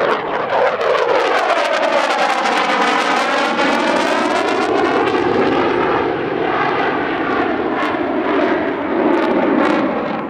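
A Dassault Rafale fighter jet roars past at the Dubai Airshow, a loud continuous engine howl with a sweeping pitch as it flies by, alone without talk.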